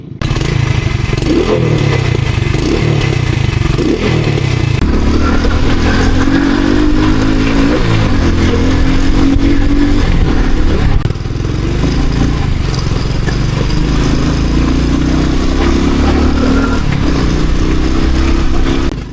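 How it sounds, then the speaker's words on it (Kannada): A modified Hero Splendor motorcycle idles loudly and close, its exhaust rising and falling through repeated quick throttle blips that give a continuous, throbbing engine note. "ಎಕ್ಸಾಸ್ಟ್ ನೋಟ್ ಮಾತ್ರ ಕ್ರೇಜಿಯಾಗಿ ಬರ್ತೈತೆ, ಕೇಳಕ್ಕೆ ಒಂಥರ ಮಜಾ"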